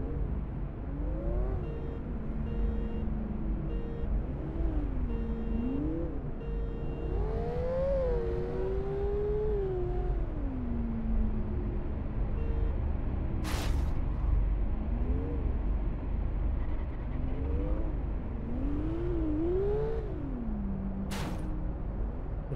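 A Porsche 911 GTS engine in the City Car Driving video game drones and revs continuously, its pitch rising and falling through repeated gear changes at a steady loud level, with two brief sharp clicks partway through.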